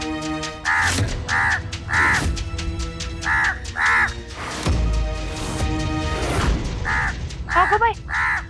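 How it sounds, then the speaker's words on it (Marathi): A crow cawing repeatedly, harsh nasal calls in short bursts of one or two, loud and close, spaced about a second apart, with background thuds and music in a TV drama scene. "परत तोच कावळा आलाय. कालपासून काय झालंय रे तुला वरडायला?"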